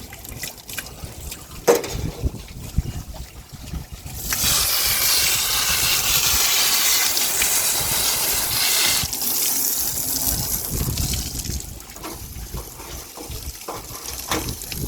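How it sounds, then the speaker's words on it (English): A water hose sprays steadily into a freshly cleaned blue crab to flush out the gut, a broad hissing rush lasting several seconds, framed by quieter splashing and handling before and after. "We find spraying them out with the water hose gets this gut part out pretty quickly and easily"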